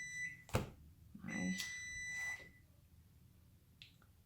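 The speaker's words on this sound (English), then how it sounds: "Sorry about my oven beeping." A few electronic beeps from a kitchen appliance, with steady high tones ringing out in short bursts, fairly faint, followed by quiet room noise.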